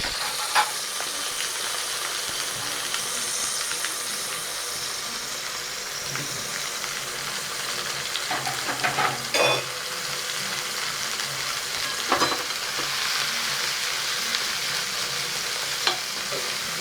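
Onions fry and sizzle in hot oil for kothu parotta, a loud continuous hiss with scraping stirs and clatter scattered throughout.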